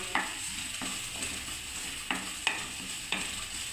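Spice masala being stirred and fried in oil for a mixed vegetable curry, with a steady low sizzle and a few sharp scrapes and clacks of the spoon against the pan.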